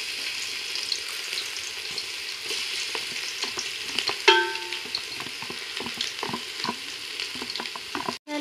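Garlic frying in oil in a pan over golden-brown onions, a steady close sizzle with scattered crackles and a few sharper pops, continuous throughout with no talking.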